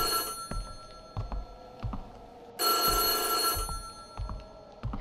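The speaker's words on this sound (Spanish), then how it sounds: "Otra vez está sonando el teléfono." A telephone rings in the horror video game White Day, a bright, loud, sustained ringing burst midway, surrounded by soft footsteps or thuds.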